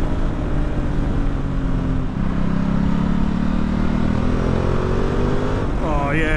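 A 2020 Ducati Multistrada 1260 S Grand Tour motorcycle engine revs hard past 6,000 rpm on a potholed road, a steady loud roar under heavy wind rush, with a sharp rising pitch sweep near the end.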